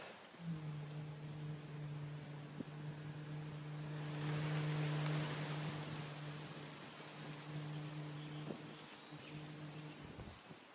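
Sustained low humming exhale during bee breath breathing practice, a steady droning tone held for several seconds, with a soft breathy rush in the middle and a faint hiss underneath.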